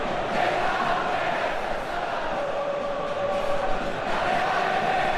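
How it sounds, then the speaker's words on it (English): A large crowd at a football match between PSIM Yogyakarta and Persita Tangerang in Indonesia's BRI Super League keeps up a loud, continuous roar and a massed hum of voices filling the stadium. "Well, the crowd aren't happy."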